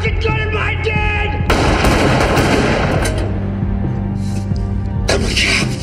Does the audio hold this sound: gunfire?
yes